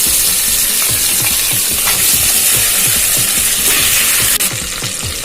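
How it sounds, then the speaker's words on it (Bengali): Marinated hilsa fish pieces fry in hot oil in a kadai, giving a loud, steady, close sizzle and crackle that keeps going without pause. "এবার মা ম্যারিনেট করা মাছগুলো দিয়ে দিচ্ছে।"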